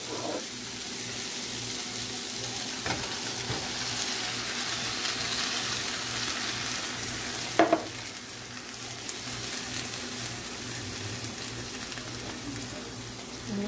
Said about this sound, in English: Okay, and then we're going to add in the canned diced tomatoes.